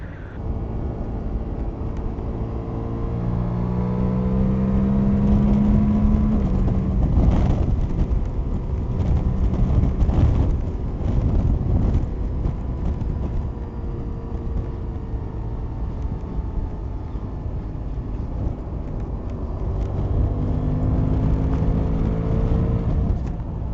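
A Suzuki GSX-8TT motorcycle rides at higher speed, with a loud continuous engine drone and heavy wind roar and rumble, rising and falling slightly in pitch as it cruises.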